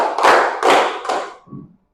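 A classroom group claps the tepuk tablik pattern in unison, three loud bursts of massed clapping followed by a softer fourth, then silence.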